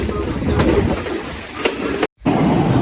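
A train near Hatton station, Sri Lanka, bound for Badulla, rumbles steadily along the rails with faint rhythmic clacks, loud and close, and then cuts out for a moment before resuming.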